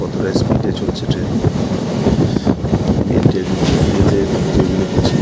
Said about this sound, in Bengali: ট্রেনের স্পিড এখন ভালোই, কতটা স্পিডে চলছে ট্রেন।